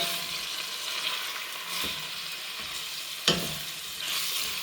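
Crushed homegrown garlic sizzles steadily in a hot pan, a continuous bright frying hiss broken by a few soft scrapes and knocks as it is stirred, close and alone with no voices.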